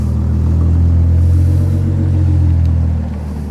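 A 2016 Audi S4 engine rumbles loud and steady at a dyno shop, a deep continuous drone that eases off slightly near the end, with no voices.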